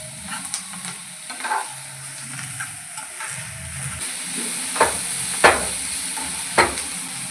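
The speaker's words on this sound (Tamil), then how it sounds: "இது போட்டு நல்லா நம்ம வதக்கிக்கலாம்." Green chilli and curry leaves sautéing in a pan give a steady, close sizzle broken by several sharp scraping stirs, with no voices.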